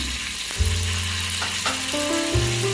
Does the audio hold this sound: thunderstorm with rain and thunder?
no